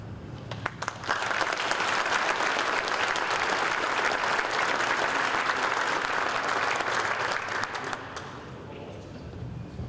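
Applause rises at an auto racing Hall of Fame induction ceremony: a few scattered claps, then a full sustained round from the audience that eases off near the end.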